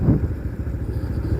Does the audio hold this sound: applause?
no